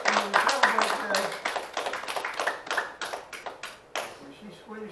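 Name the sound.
congregation hand clapping in praise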